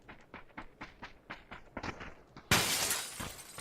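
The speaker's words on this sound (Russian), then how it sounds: "Блин, не надо было в стекло бить." Glass shatters loudly inside a factory in PUBG, a sudden bright crash that sprays into a sustained crackle, preceded by a quick run of footsteps.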